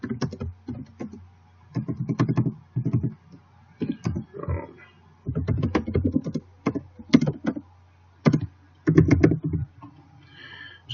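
Keys tapped in irregular bursts on a computer keyboard while an address is entered, close and fairly loud, with short pauses between runs of keystrokes.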